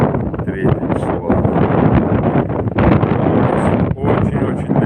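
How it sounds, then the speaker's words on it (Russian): Cold wind gusts steadily across the microphone on a snowy early-June morning, a loud continuous rush with buffeting dips and swells throughout, no voices. "Опять скрывается снег, опять холодный ветер."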